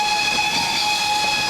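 A steam locomotive whistle shrieks continuously through a thick hiss of escaping steam, steady and loud, heard alone without any voices; the locomotive is backing a train in fog just before the 1928 Sundhoffen rail disaster.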